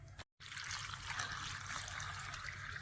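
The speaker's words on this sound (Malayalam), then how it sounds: "വെള്ളം ഒഴിച്ചു മൂടി വെച്ചൊന്ന് വേവിക്കണം" Water trickling steadily into a pan of elephant foot yam pieces, a faint, continuous pour after a brief gap.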